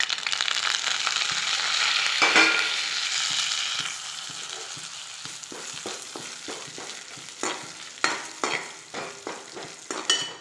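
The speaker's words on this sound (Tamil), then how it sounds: "இப்போ நம்ம வேப்பம்பூ சேர்த்துக்கலாம்." Neem flowers dropped into hot cooking oil crackle and sizzle loudly at first, then settle into a steady frying hiss with scattered sharp pops and stirring scrapes toward the end.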